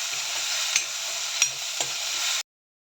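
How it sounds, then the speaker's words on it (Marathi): Spice paste for urad dal varan is sautéed and stirred in a hot pan. There is a loud, continuous sizzle with three distinct scrapes or taps of the spoon, then it cuts off abruptly into silence. "हे छान परतून घ्यायचं. छान हे सगळे मसाले पेस्टमध्ये मिसळतील असं मिक्स करून घ्यायचं"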